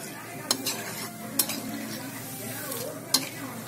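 Maida biscuits frying in oil over medium heat, a faint steady sizzle broken by a few sharp clinks of a utensil against the pan, close up and with no talking.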